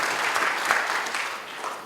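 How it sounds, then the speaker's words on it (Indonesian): Church congregation clapping in steady, dense applause for Jesus during a sermon, close and continuous throughout with a faint murmur of voices. "Beri tepuk tangan buat Yesus."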